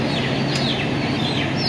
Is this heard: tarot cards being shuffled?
no